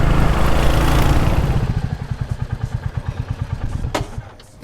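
Royal Enfield Hunter 350 motorcycle on a ride, a loud rush of wind and engine noise fading into a steady thumping single-cylinder pulse, close up with no talking.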